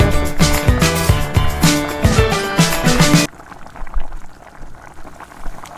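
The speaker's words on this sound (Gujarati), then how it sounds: "પછી તેને તેલમાં તળી દેવાના છે" Vegetable Manchurian balls deep-frying in oil bubble and crackle, with loud background music over the first half before the music stops and the steady frying bubbles continue alone.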